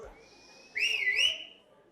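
A single short whistle from a person rises sharply and then slides up and down, loud and close in a quiet room, following a faint murmur of voices.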